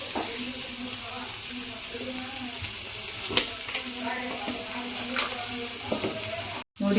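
Red chilli powder fries in a pan for hotel-style red chutney, giving a soft steady sizzle with occasional stirring scrapes and clicks, faint and close, with no talking.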